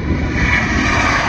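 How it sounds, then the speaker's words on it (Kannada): A big Qatar Airways international passenger jet rushes past at an airport in a brief, loud, steady engine roar with broad hissing noise. "ಇಂಟರ್ನ್ಯಾಷನಲ್ದು ಖತ್ತರ್ ಏರ್ವೇಸ್ ಹೋಯ್ತು ಗೈಸ್."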